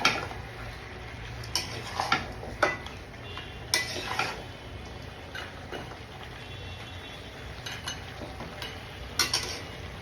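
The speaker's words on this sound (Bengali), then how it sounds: "আমি এইভাবেই কিছুক্ষণ নাড়ি আর একটু একটু করে তেলের সাথে মাখতে দিই" Beef stirred in oil in a pan while cooking a red meat dish, a soft steady frying hiss under repeated spoon scrapes and clinks against the pan at an irregular rhythm, close and fairly quiet, with no talking.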